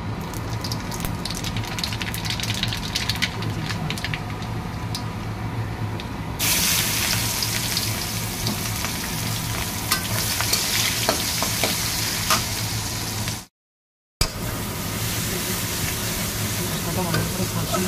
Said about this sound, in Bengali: কালো জিরে ফোড়ন দিয়ে